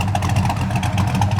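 A Ford Fox car with a stock 289 V8, a small cam and new tailpipes idles close by, a loud, deep, lumpy rumble pulsing in a steady rhythm with no talking.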